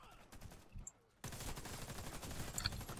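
A submachine gun firing rapid automatic bursts in the shooter game Warface, about 700 rounds per minute from a 64-round magazine; a short brief burst, a pause of near quiet, then a loud sustained stream of close gunfire.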